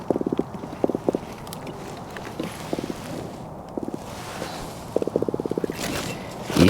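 A small drum fish caught while night fishing croaks in short bursts of rapid low pulses, spaced irregularly over a faint outdoor background with some handling noise.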